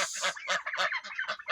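Mixed farm poultry (turkeys, ducks, guinea fowl and chickens) kept together near automatic feeders call in quick overlapping bursts, with turkey gobbles and clucking squawks repeating closely and loudly, with no talk.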